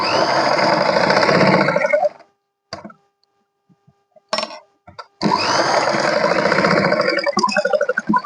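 An electric sewing machine stitches tucks on the front panel of a 40-inch katori blouse, running in two sustained bursts separated by a pause with a few short clicks and starts, close and loud with no talking.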